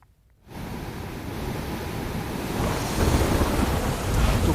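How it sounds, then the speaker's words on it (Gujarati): Heavy, steady roar of a rushing river torrent near Banej in the Gir forest after heavy monsoon rain, loud and continuous, swelling slightly toward the end with no voices. "બાણેજ ધામ નજીક નદીમાં પાણીનો ધસમસતો પ્રવાહ વહેતો થયો છે।"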